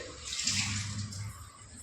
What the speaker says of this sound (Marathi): पाऊस बघा किती आलेला आहे